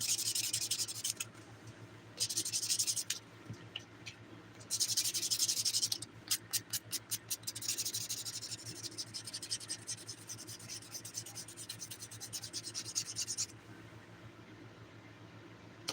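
A nail buffer scratches quickly against dip powder nails in short bursts, then a longer stretch of soft rhythmic rubbing, close and fairly quiet with no talk.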